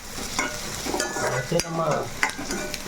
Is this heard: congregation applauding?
no